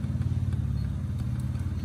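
A Japanese massage chair's motor hums steadily, a low, continuous mechanical drone with a faint rhythmic pulsing, close by and uninterrupted for under two seconds, with no talking.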